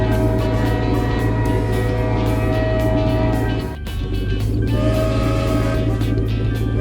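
A glowing cartoon train from a Peppa Pig animation rolls along with a steady, loud mechanical rumble and rhythmic clatter, a brief dip in the middle before it continues.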